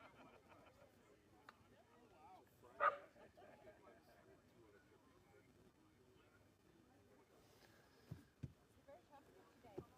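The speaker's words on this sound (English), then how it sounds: "There's a little dog coming." A small dog yips and barks faintly in the distance near a skydiving plane and truck, a few short sharp barks under people talking nearby.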